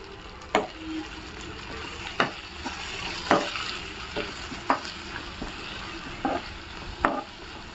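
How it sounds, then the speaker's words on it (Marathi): A spoon stirs biryani masala and spices in a pan, with distinct scraping strokes and knocks at an irregular pace over a soft, steady frying hiss. "सगळे मसाले आहेत ना छान असे मिक्स करून घेऊया आपण"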